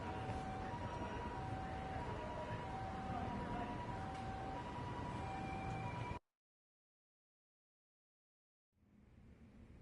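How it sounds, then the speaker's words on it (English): A siren wails loud and steady through the Lost Judgment video game, rising and falling in a repeating pattern, then cuts off abruptly into silence before quieter background sound returns. "Siren."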